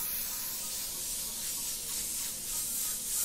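Airbrush gun spraying paint onto a cornhole bag, a steady soft hiss close by that swells and eases in gentle pulses as the stroke moves.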